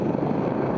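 An AGL helicopter flying over a runway at a rally stage, its rotor and engine making a continuous broadband roar, steady and fairly close, with nothing else heard.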